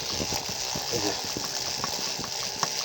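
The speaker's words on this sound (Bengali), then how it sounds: "এই যে পানি উঠতেছে কিন্তু পানিটা আবার সেরে দিচ্ছে" A high-speed 12-volt DC pump draws water from a tubewell through a pipe, sucking in air along with the water. It gives a continuous gurgling, rattling churn with small mechanical clicks.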